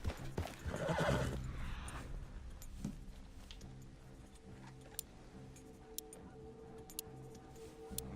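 A horse gives one loud, drawn-out whinny at the start. It fades into a quieter stretch of sparse, evenly spaced hoof clip-clops that sound like ticking, with no voices.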